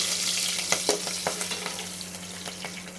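Green chillies and curry leaves crackle and spit in hot oil in a pan, with sharp sporadic pops over a soft, steady sizzle.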